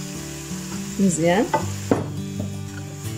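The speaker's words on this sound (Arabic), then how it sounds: "المهم هنايا راه تقلى كلشي" Brussels sprouts fry in olive oil over a steady sizzle, with scraping stir strokes in the pan, close and clear. A voice says a single short word.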